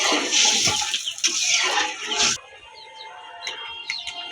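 Water pours with a loud rushing splash into a pan of lentils fried in oil, then cuts off to a quiet background with faint chirps.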